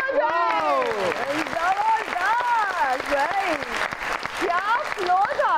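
A studio audience on a talk show claps in a steady wash of applause, mostly buried under a loud, animated voice talking over it.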